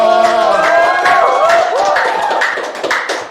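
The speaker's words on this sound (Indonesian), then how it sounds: "Ya, tepuk tangan dong." An audience at a Bandung event about BPJS Ketenagakerjaan worker protection breaks into loud clapping mixed with cheering, whooping voices that rise and tail off over about three seconds.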